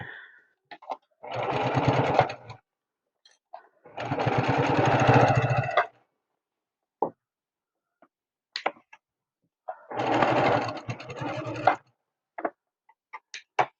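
Three sustained bursts of a sewing machine stitching a flying geese quilt unit, each running about two seconds, separated by quiet handling clicks and rustles of fabric.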